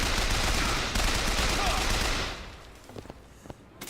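Rapid video game gunfire rattles as a loud, dense automatic burst for about two seconds, then cuts off, leaving a few scattered sharp pops and quieter game sounds.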